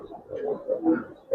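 Young high-flying Giribaz pigeons with small necks cooing in a loft, several soft, low, throaty coos in close succession, near and fairly clear, with no talking.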